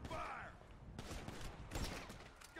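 Gunfire in the GTA 5 video game during a police encounter, bursts of shots rattling through the clip, with a dense volley near the start and another around the middle, loud and close.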